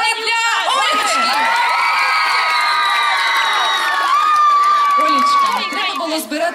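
Schoolgirls cheer, whoop and shout together at an outdoor karaoke contest on a town square, a loud sustained crowd roar lasting several seconds with excited high voices rising and falling.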